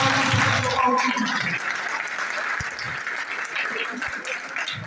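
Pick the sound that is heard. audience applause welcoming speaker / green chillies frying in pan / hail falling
audience applause welcoming speaker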